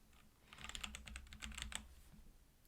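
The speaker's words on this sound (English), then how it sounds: "I'm just going to type in my personal email." Quick, close clicks of a computer keyboard as an email address is typed, a fast run of keystrokes at low volume with no talking.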